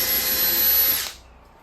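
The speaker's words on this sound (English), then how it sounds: "I will also pre-drill these holes here where I want my screws to go" A power drill runs steadily while pre-drilling screw holes in wood for a bluebird house, a loud continuous whine lasting about a second before cutting off abruptly, leaving a quiet tail.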